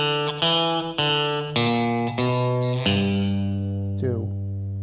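An electric guitar plays a slow country lick, a handful of clean, sustained picked notes and a bent final note, close and alone.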